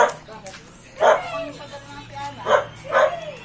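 A dog barks several times nearby, sharp separate woofs spaced about a second apart over quiet background, with people talking around them.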